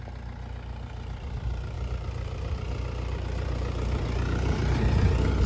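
A Mahindra 585 DI tractor engine runs with a steady, low diesel drone and knocking throb that grows gradually louder.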